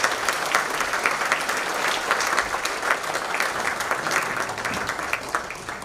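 Audience applause at an Akshaya Patra charity event, many hands clapping in a continuous, even wash that holds steady throughout and tapers gently near the close.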